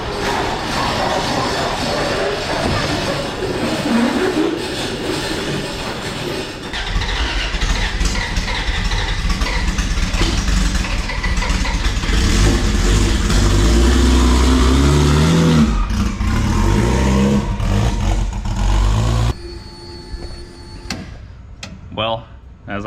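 An LS-swapped Nissan 240 running loud and close, its V8 idling then climbing through sustained revs with shifting engine tone before dropping back near idle at the end, a voice talking over parts of it.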